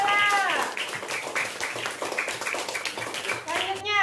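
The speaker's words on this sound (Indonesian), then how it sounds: "tepuk tangan buat Kela" Primary-school classmates in a sixth-grade classroom clap for a student, a short burst of scattered hand claps mixed with children's voices and chatter, with a sung or called-out phrase near the end.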